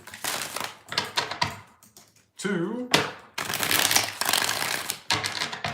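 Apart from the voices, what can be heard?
tarot cards being shuffled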